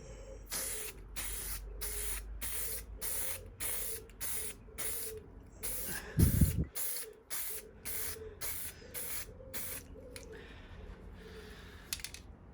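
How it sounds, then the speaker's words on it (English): Repeated short bursts of an aerosol spray can hissing in a steady rhythm, close by, painting the rear wheel of a 1998 Suzuki GSX-R 600, with a brief clunk midway and a quieter rattle near the end. "Didn't want to get no overspray on the wheel that I was spraying over there."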